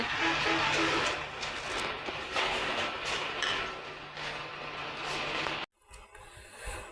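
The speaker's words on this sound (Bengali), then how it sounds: "এদিক থেকে ট্রেন আসবে" A train passes on the Dhaka line with a loud, sustained rumbling roar and a low steady drone, then cuts off abruptly, leaving quieter outdoor ambience.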